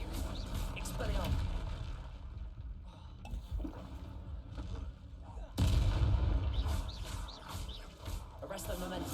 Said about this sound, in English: Flipendo. Expelliarmus.